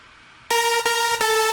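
Raw, unprocessed progressive house synth lead with a buzzy, harmonic-rich tone that starts abruptly after a quiet lead-in and plays three loud sustained stabs with brief dips between them, no talking.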